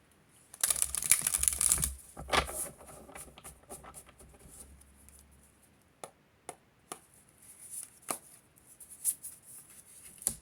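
Tarot cards are shuffled close by, with a dense, crisp riffle burst early on, followed by scattered light taps and slaps of cards being handled.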